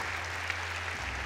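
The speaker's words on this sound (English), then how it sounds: "you'll get a round of applause here" Spectators at a table tennis match in Singapore give a round of applause, steady clapping filling the arena over a low constant hum.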